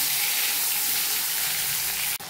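Taro and potato pieces fry in hot oil, giving a steady, loud broadband sizzle that holds evenly, with a brief dip near the end.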